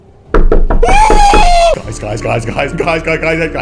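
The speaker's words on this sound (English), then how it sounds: "knock at the bedroom window" Knocking at a bedroom window in a horror animation: a few sharp raps under a loud reacting voice, followed by a busy clatter of sound and talk.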